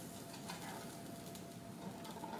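Continuous close sizzling and crackling of pigeon frying in a hot pan, a steady hiss with faint pops and no talking.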